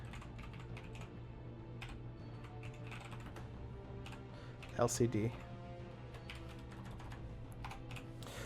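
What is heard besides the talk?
typing on a computer keyboard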